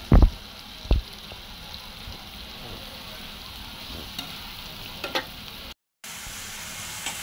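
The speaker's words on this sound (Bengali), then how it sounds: "এগুলোকে কষা নিব ভালো করে" Onions with salt and turmeric sauté in a pan for a Bengali small-fish (kachki) curry, giving a steady soft sizzle with a couple of louder stirring knocks near the start and faint scraping later.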